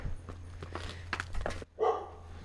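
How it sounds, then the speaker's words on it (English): Neighborhood dogs barking in a few short, fairly close bursts outdoors on a residential street, with a brief quiet gap before a final bark. "The dogs in this neighborhood are crazy."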